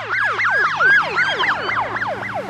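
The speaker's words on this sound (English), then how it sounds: "the Doppler effect of a siren passing you" A siren passing by with a Doppler pitch change wails in fast repeating rising-and-falling sweeps, steady and fairly loud, with a low engine hum underneath.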